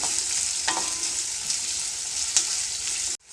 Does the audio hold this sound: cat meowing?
no